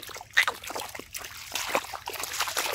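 Water splashing and sloshing as someone wades through floodwater after heavy night rain, with uneven steps and trickling between them.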